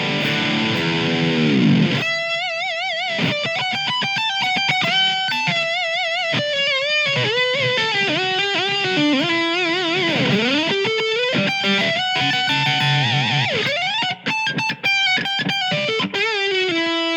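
An Ibanez RG1070PBZ electric guitar on its bridge pickup plays a heavy, distorted riff, loud and sustained, with fast bends, sliding dives and choppy palm-muted bursts, alone with no talking.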